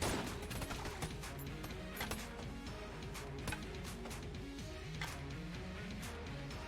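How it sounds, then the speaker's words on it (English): Bouncing skull shots in Enter the Gungeon, a rapid rattle of clunky, ricocheting game gunfire repeating over a steady music bed, fairly dense and continuous. "I do like the sound effect of the bouncing skull shots"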